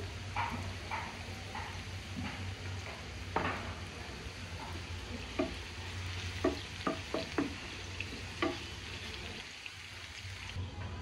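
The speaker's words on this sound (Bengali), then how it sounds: "আর এই চুলায় বেরেস্তা বসিয়েছি" Sliced local onions deep-frying in a pan on a stove until browned and crisp for birista, with a continuous soft sizzle broken by scattered sharp crackles and pops, close and fairly quiet.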